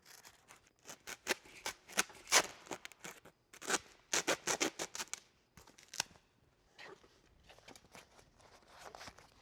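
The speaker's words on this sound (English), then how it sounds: "The scissors to do the trimming of the material." Scissors snipping through SnirtStopper weatherstrip foam while trimming it for large bi-fold doors, a series of crisp close cuts in rapid bursts with short pauses between, no talking.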